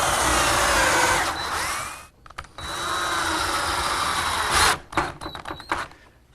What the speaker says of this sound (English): attach it with some 2-inch screws